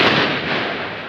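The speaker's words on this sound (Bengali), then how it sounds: "গোলাগুলি" Gunfire from police during street clashes with protesters at Satmatha in Bogura lands as one loud, harsh blast that fills the moment and slowly fades.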